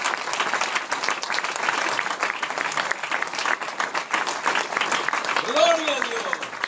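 A church congregation applauds Jesus Christ during a sermon, with sustained clapping that runs throughout and a brief voice rising near the end.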